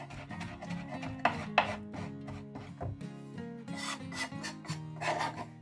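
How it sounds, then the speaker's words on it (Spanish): A knife chops finely on a board for a bean salad dressing in the fisherman's style, making quick repeated close taps and rasping strokes in an uneven rhythm, with no talking. "Picamos bien picadito."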